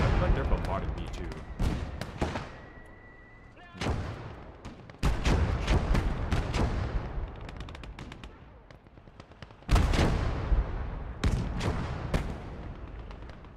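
Repeated explosive blasts and bursts of gunfire from mortar bombardment in the World War II game Gates of Hell: Ostfront, Finland campaign, booming at intervals with a constant rumbling battle underneath.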